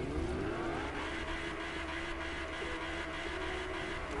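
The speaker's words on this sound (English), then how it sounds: "Let me move the Lamborghini real quick." Lamborghini driven in the Fortnite video game, a steady, continuous engine drone with tire and road noise, loud and unbroken throughout, no voices.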